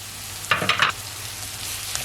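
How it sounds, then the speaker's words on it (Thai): Oil sizzles briefly as samosa filling is stir-fried in a pan, a short burst of frying and stirring over a quiet background hum. "ผัดค่ะให้นิ่มๆหน่อย"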